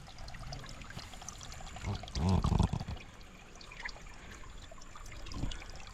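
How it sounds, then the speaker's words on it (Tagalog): A strong natural spring on a forest trail gushes and pours steadily nearby, with a louder splashing burst in the middle and a continuous trickling flow throughout. "Oh, ang lakas naman nitong bukal na to."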